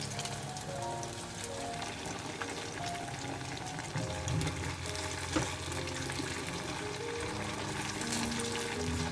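Eggplant slices frying in a pan in a home kitchen, a steady even sizzle and crackle throughout, moderately faint, with background hum and no talk.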